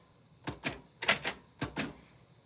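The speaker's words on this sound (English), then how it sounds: "that is a space bar" Typewriter keys clacking in a short run of sharp mechanical strikes, two pairs of quick hits with a louder cluster between, close and clear with no talking.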